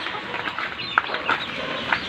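Several short chicken clucks, moderately close, scattered over a steady background hiss, with no talking, during a fruit harvest.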